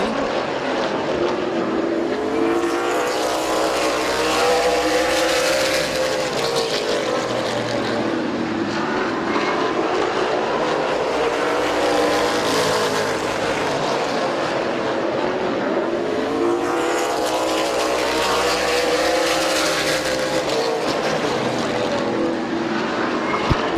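Race cars roar around the oval at Midvale Speedway, engines loud and continuous with rising and falling passes sweeping by in waves, a dense pack of cars heard close without speech.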